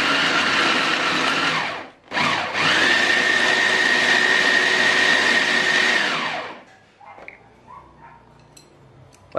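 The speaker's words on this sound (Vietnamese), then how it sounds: "mình sẽ tiến hành mình xay tất cả nguyên liệu lên." Blender grinding pork, wood ear mushroom and shallots, a loud whirring motor that runs, stops briefly, whines steadily again, then cuts out into quiet clinks.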